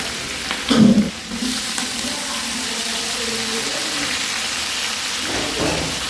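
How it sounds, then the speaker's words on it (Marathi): Dal tempering in hot oil with bay leaf, cumin and mustard seeds: a sharp burst of sizzling and popping at the start, then a steady loud hiss of frying spices under the roar of a gas flame. "डाळीला फोडणी देते गॅसचा आवाज खूप येणार आहे त्यामुळे फक्त मी शूट घेणार आहे तेजपत्ता टाकलं जिरं मोहरी ही बघा कशी पटपट पटपट करते"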